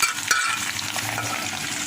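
Crushed, deboned dried fish frying in a pan over a raised flame gives a dense, close, steady hiss of sizzling oil, with a single faint clink near the start and no voices.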